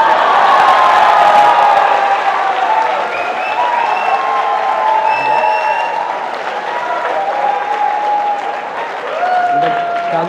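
Audience applause at a Tamil stand-up comedy show in Australia: loud, sustained clapping with some crowd cheering, while a voice talks faintly over it.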